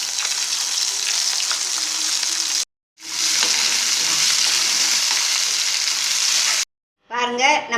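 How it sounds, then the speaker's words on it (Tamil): Spices and curry leaves tempering in hot oil for carrot chutney, loud bursts of crackling sizzle broken by two abrupt silences, with a voice briefly heard at the end. "இப்போ வந்து மற்ற இதெல்லாம் போட்டு தாளிச்சு"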